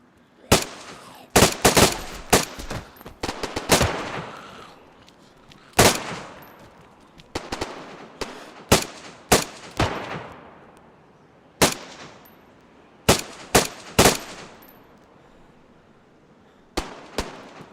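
Gunfire in the survival video game DayZ: loud, sharp shots in irregular bursts, some quick clusters of three or four rounds, others single cracks separated by short pauses, each with a brief decaying tail.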